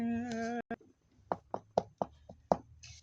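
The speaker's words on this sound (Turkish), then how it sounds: "Ah kapı çaldı." Knocking on a door inside a home: a brief steady tone gives way to a series of about six sharp raps, close and evenly spaced, with no talking.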